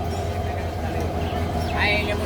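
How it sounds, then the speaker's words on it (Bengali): A train rumbles past at a rail yard with engines standing by, a steady low mechanical roar of wagons with a faint squeal near the end, while a voice talks over it. "দেখছেন রেলগাড়ি"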